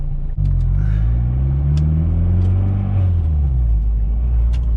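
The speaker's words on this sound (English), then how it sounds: "then we'll do a third gear wide open throttle pull and send these off" A loud, close, continuous engine roar from a fully built Mazdaspeed 6 with a PTE 6062 turbo, with a steady drone whose pitch rises gradually as under a wide-open-throttle pull.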